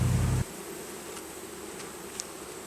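Honey bees buzz around a backyard beehive in a steady, close, even drone that runs alone throughout, with a short louder thump at the very start.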